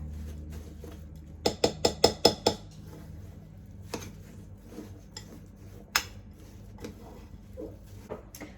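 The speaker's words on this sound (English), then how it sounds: "We are going to mix all of these ingredients together and really make sure the peanut butter is all mixed in." Spoon or spatula clinks and scrapes against a bowl while pumpkin treat ingredients are mixed with peanut butter, a quick burst of sharp taps followed by scattered softer knocks, close and alone.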